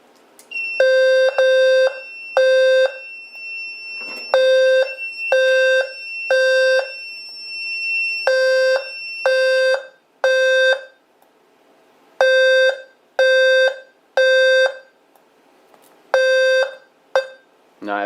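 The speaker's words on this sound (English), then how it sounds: "So we're going to go ahead and do the pull station first." A fire alarm sounds after a pull station is activated during a small system test, with the horn taped over. It gives repeated loud, evenly spaced electronic horn blasts in a steady temporal pattern, with no talking.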